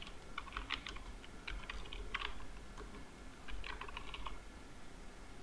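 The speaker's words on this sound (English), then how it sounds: "select close and preview and type new text" Typing on a computer keyboard to enter new text in an Adobe Acrobat Pro form field, with quick bursts of close, crisp key clicks separated by short pauses against a quiet room.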